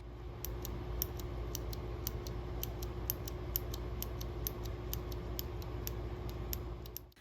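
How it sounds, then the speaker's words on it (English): An aqua green clicky keyboard switch on a Caps Lock key is pressed repeatedly, giving a quick run of about twenty sharp, light clicks at an even pace over a steady low hum. "I do like the sound of this aqua green clicky switch. It's really clicky"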